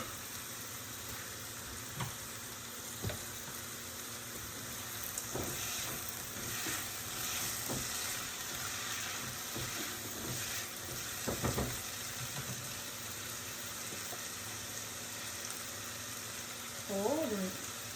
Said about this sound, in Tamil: தக்காளியை வதக்கி வறுத்துட்டு கொஞ்சமாக உப்பு சேர்த்துக்கிறேன் சாம்பாருக்கு.